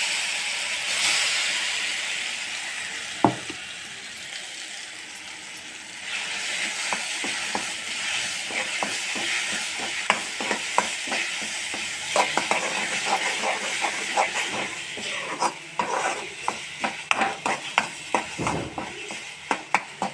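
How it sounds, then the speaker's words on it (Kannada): Ground spice paste sizzling in a hot pan with mustard seeds, a steady frying hiss with repeated sharp crackles and pops that grow busier over time, close and fairly loud, with no talking. "ಸ್ವಲ್ಪ ಕೆಂಪಾದಮೇಲೆ ಈ ರುಬ್ಬಿರೋದನ್ನು ಇದರೊಳಗಡೆ ಹಾಕ್ಕೊಂಡ್ಬಿಟ್ಟು ಒಂದು ಸ್ವಲ್ಪ ಬಿಸಿ ಮಾಡಿದ್ರೆ"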